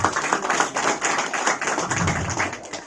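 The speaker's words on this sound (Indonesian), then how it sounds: "Tepuk tangan." Audience at a marketing presentation clapping in close, uneven bursts, loud and near, with individual hand claps distinct rather than a dense roar.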